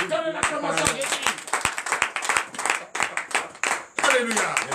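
Congregation clapping for Jesus during a night deliverance and prophecy service in a Beninese church, sharp rapid handclaps ringing out nearby under steady talk and shouting voices.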